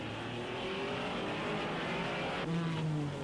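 A 1961 Porsche Formula One car driven by Joe Bonnier at the Belgian Grand Prix, its engine droning steadily with rising pitch as it races past, alongside other race car engine noise in a continuous wash.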